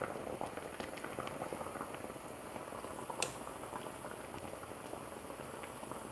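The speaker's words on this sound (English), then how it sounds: "So this is getting pretty close to the boiling point here." Finely ground Turkish coffee heats in a small pot close to the boil, giving a soft, steady bubbling and hiss that stays faint and even throughout, with one brief sharp click partway through.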